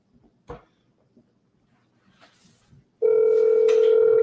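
After a few quiet knocks and rustles, a loud steady electronic telephone ringing tone starts abruptly and holds without a break.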